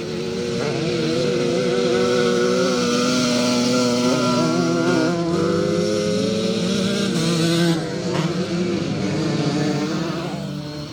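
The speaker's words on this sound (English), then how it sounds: "it certainly sounds like a very sick 125 Yamaha engine there of Richard Mason's" A sick-sounding 125cc Yamaha motorcycle engine screams at high revs at a classic scramble race, loud and close, pitch wavering and dipping briefly before climbing again; rough, strained tone.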